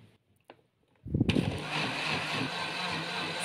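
A kitchen blender grinds cincau (grass jelly) leaves for homemade es cincau, starting abruptly after a quiet moment with a few faint clicks, then running as a steady, loud, dense whir until the end.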